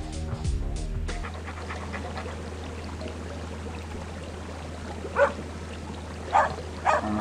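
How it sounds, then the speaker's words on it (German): A small dog in the TKKG video game barks three times in short, sharp bursts toward the end, over a continuous background of game ambience. "Kleiner Hund."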